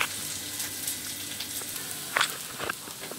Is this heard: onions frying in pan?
yes